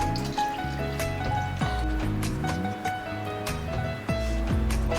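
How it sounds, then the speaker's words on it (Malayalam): Tamarind water poured into a pot of pearl spot fish curry: a close, steady watery pour and dribble with splashy drips, a continuous liquid sound throughout. "ഇനി ഇതിലോട്ട് പുളിവെള്ളം."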